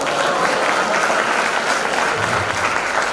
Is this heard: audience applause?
yes